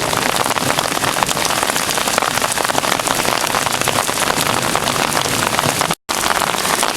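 Heavy rain pours steadily and loudly on surfaces outside during a thunderstorm with flooding, a dense unbroken hiss that cuts out for an instant near the end.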